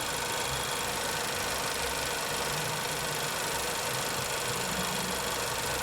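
A used car's engine idles in a steady, even mechanical hum with a faint knocking texture, heard close and alone without talk.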